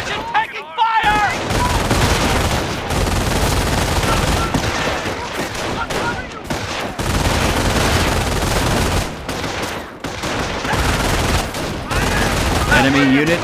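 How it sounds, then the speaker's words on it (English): Dense infantry gunfire from the Company of Heroes video game: rifle and machine-gun bursts crackle almost continuously for the whole stretch, with game voice lines calling out over the shooting. "Position taking fire!"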